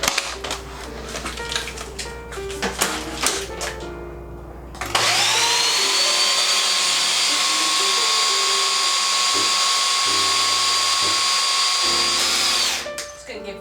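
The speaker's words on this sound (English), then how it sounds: "we're going to put it back on the food processor and blend the crap out of it" A food processor blends kale and wild berries, its motor rising to a steady high whine that holds for several seconds and then winds down, preceded by clattering and handling sounds close by.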